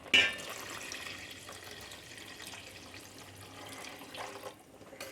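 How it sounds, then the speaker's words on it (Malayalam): Second coconut milk pours into a pot of adaprathaman payasam, a soft liquid splash at the start followed by quiet, low pouring and trickling sounds with a brief stir near the end. "ഇനി നമുക്ക് ഇതിലേക്ക് രണ്ടാം പാല് ചേർത്ത് കൊടുക്കാം"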